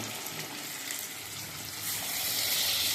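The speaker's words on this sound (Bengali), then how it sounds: "চিকেনগুলো দিয়ে দিচ্ছে ভাজার জন্য।" Marinated chicken pieces drop into hot oil for chili chicken, and a steady, close frying hiss grows louder and brighter toward the end. No one speaks.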